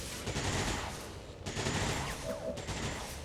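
A mech in XCOM 2 lays down continuous suppression gunfire, a steady, dense rattle of automatic shots with brief gaps, heard close and fairly loud throughout.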